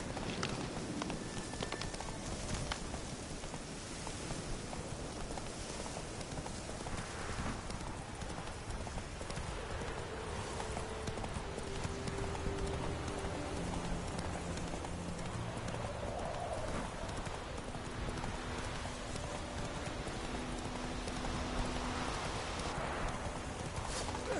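A horse gallops across The Witcher 3: Wild Hunt, its hooves clip-clopping in a steady, fast rhythm that carries on for the whole stretch over a dense, noisy game soundscape.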